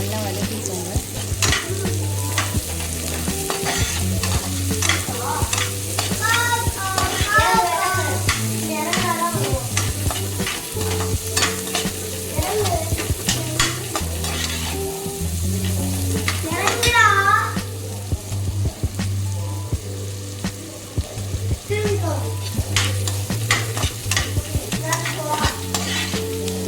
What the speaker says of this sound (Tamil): வெங்காயம் இது நல்லா வதக்கிக்கோங்க.